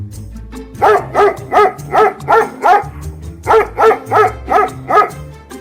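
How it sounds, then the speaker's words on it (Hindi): A dog barks loudly in two quick bursts of about five or six barks each, evenly spaced, with a short pause between runs. "अन्य जानवरों के झुंड को देखकर कुत्ता जोर जोर से भौंकने लगा।"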